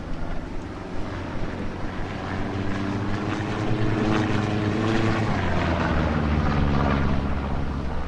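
Propeller drone of a recon plane passing overhead in a multiplayer video game scrim, a steady broad hum that swells slightly louder midway and holds, with no talk over it.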